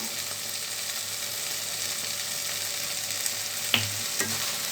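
Green peas poriyal frying in a pan, a steady broadband sizzle with a couple of sharp scrape or tap sounds from stirring near the end, close and with no talking.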